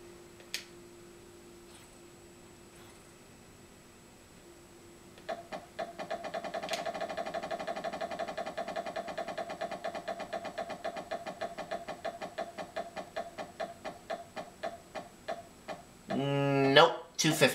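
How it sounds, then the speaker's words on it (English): A Wheel of Fortune wheel spins in the Sega CD video game, a rapid run of ticks that gradually slows, with game music underneath and a short jingle at the finish. "I would like to spin the wheel"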